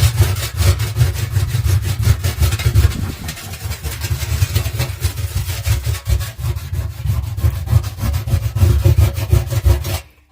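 A wet Pumie pumice scouring stick rubs against an oven surface in a steady, loud, rasping back-and-forth scrub that continues for about ten seconds and then stops abruptly.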